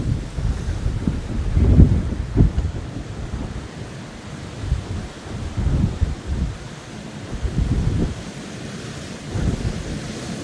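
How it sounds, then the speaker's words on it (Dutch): Strong wind gusts in 's-Heerenberg buffet the microphone in heavy, surging waves, rising and falling in loud rumbling bursts with no voices. "De windstoten zijn echt krachtig op dit moment al."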